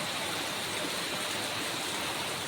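Floodwater rushes steadily through a village after heavy rain, a continuous broad hiss and roar of flowing water without breaks.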